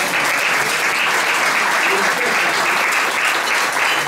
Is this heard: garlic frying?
no